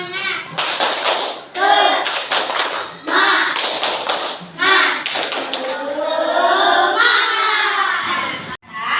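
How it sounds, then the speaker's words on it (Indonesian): A class of students stands and performs a rhythmic spirit clap, bursts of patterned clapping and tapping mixed with chanting and shouting voices, loud and close in a classroom. "Kita melakukan tepuk semangat."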